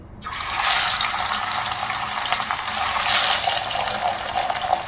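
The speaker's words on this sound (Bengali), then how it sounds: "এবার আমি এক এক করে মাছগুলো ভেজে নেব" Katla fish pieces fry in hot oil in a kadai, giving a loud, continuous, even sizzling hiss that holds steady throughout, with no talking.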